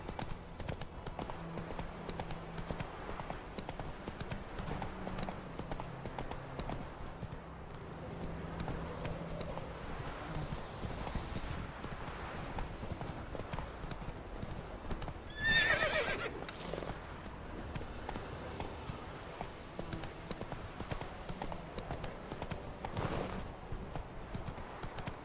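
Roach, a horse in The Witcher 3, gallops with steady clip-clop hoofbeats and lets out a loud neigh partway through, with game ambience behind.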